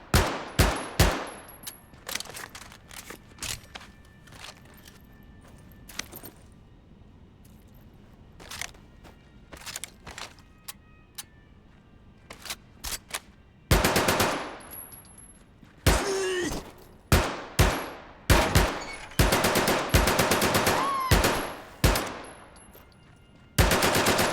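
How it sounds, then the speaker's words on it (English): An MP40 submachine gun in the World War II shooter Medal of Honor fires in sharp, loud bursts and single cracks, with sparse gaps early on and denser sustained volleys in the second half. "the MP40 doesn't go wild like other automatic weapons do when firing an entire magazine at once"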